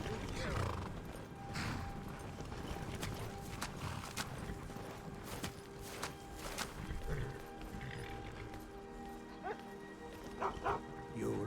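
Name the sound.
dog barking in the video game Skyrim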